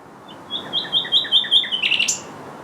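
A male nightingale sings a quick series of bright, high whistled notes, rising into a louder trilling flourish at the end, over faint steady background noise.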